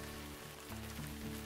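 Steady rain in the video game WolfQuest, a dense continuous patter with faint low tones beneath, alone and even in level.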